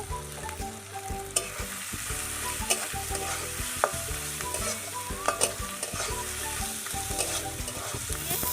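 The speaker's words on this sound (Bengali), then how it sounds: "মাছটা নেড়ে চেড়ে এবার দিয়ে দিচ্ছি হলুদ গুঁড়ো, আবারও নেড়ে চেড়ে নেব।" Dried fish (shutki) frying with turmeric is stirred in a pan. The sizzle is close and continuous, with steady scraping strokes and occasional sharp clicks of the utensil against the pan. No one speaks.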